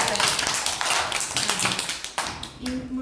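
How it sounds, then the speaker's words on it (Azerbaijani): A crowd of children and guests clap together at a child's fifth birthday party, a dense, close patter of hands that runs the whole time, briefly thinning before picking up again, with voices mixed in. "Gəlin bir daha alqışlayaq."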